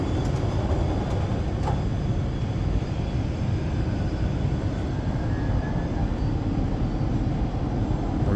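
An airplane passes over a railway station on the RER Line D, a steady broad engine roar that fills the whole stretch and sounds fairly distant.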